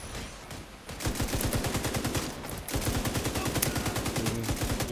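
Rapid gunfire in The Division 2 aimed at an enemy sniper: loud, close automatic shots in an even, fast rhythm, pausing briefly near the middle before resuming just as steadily.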